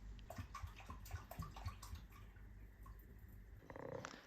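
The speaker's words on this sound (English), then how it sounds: "Using a funnel and coffee filters, I quickly filter the top parts of the bottles." Homemade mirabelle plum alcohol poured from bottles through a funnel lined with coffee filters, a steady close liquid trickle and splash with faint knocks, swelling louder near the end.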